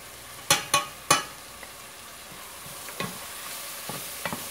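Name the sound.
stirring and frying chicken biryani masala in oil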